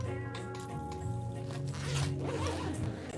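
A zipper on a keyboard gig bag is worked closed with a series of quick rasping pulls, close and fairly quiet, each stroke repeating in an uneven rhythm.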